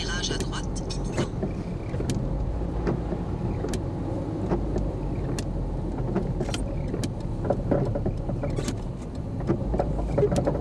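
Car making a U-turn at a roundabout, with steady engine and tyre rumble heard from inside the cabin while voices talk over it throughout.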